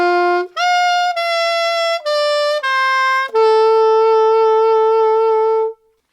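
Saxophone playing a phrase from a song's solo: a run of clean sustained notes stepping downward, ending on one long held note, loud and alone with no talking.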